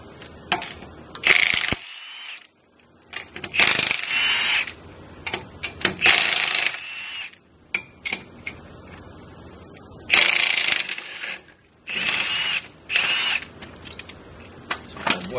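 Ratchet wrench tightening new lug nuts on a Chevy box car's 24-inch US Mags wheels, loud close bursts of rapid clicking repeated in several separate runs with pauses between.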